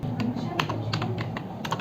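Rapid, uneven keystrokes on a computer keyboard as an email address is typed into a mail compose window, close and crisp, with faint speech underneath.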